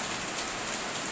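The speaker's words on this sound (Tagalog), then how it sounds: "ayan, ulan." Steady rain pours down, a dense hiss of drops on surfaces with no voices.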